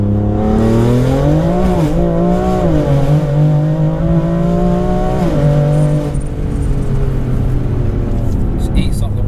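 A BMW 335d accelerates hard on the road, its engine note droning loud and steady with rising and dipping pitch as the revs climb, heard from inside the car over continuous road noise.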